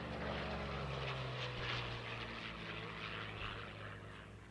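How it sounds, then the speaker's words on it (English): A Curtiss P-40 Warhawk, the American Dream, makes a low straight pass at an airshow, its propeller engine roaring steadily and loudly throughout with a broad, rumbling drone that fades only slightly at the end. "brings in the American Dream, the Curtiss P-40 Warhawk, for this parabolic straight pass"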